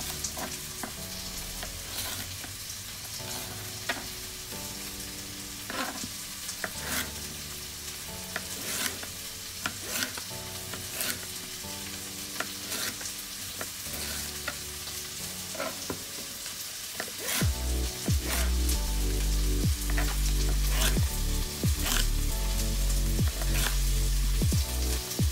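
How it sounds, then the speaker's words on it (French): Onions sizzle and caramelise in a frying pan, a steady close-up crackle of frying with frequent sharp pops and spatters, growing louder and heavier near the end. "L'oignon ça a déjà commencé à caraméliser."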